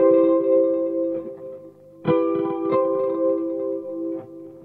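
An electric guitar plays a stretchy chord pattern, several ringing chords struck one after another with effects-laden sustain, played alone.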